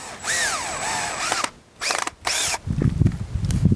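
A power drill drives drywall screws into the frame of a DIY hoop house, with three or four close, loud whirring bursts whose pitch rises and falls, separated by brief pauses and ending in rattly handling noise.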